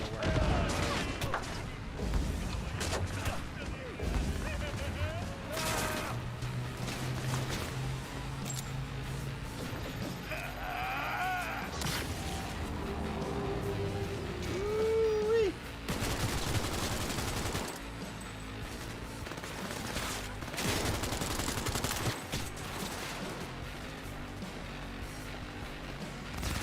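Gunfire in the Cyberpunk video game, with bursts of rapid shots, impacts and crashes over a dense, loud game soundscape that continues throughout.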